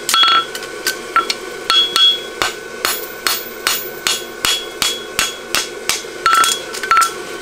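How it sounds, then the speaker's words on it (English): A farrier's hammer flattens a fullered horseshoe on an anvil: about a dozen sharp, ringing strikes land in a steady, even rhythm, close and loud, with metallic overtones between blows. "take our hammer around, go towards center."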